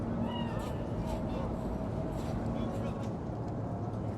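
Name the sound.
cat meowing in video game Cyberpunk 2077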